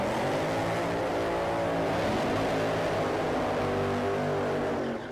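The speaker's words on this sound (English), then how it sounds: "Phil Ez and Sean Bellemeur rolling to the puddles here." Drag racing car idling loudly and steadily as it rolls toward the water box at the starting line, a dense rumbling engine drone with harmonic layers held close and constant throughout.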